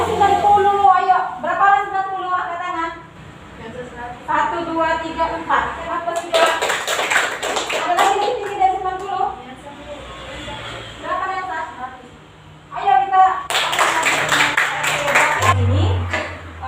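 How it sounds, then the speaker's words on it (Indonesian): A school class applauding a student named Zara, with bursts of clapping breaking out between stretches of a teacher's speech in the classroom. "ayo kita beri aplaus kepada Zara"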